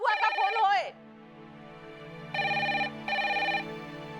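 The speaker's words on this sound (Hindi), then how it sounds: "अरे सनका देवी फोन उठाओ।" A voice calls out, then a telephone rings in two long bursts, close and clear, with a short gap between them.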